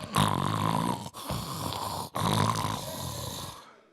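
A preacher imitates snoring with his voice, three loud drawn-out rasping snores separated by short breaths, close and prominent.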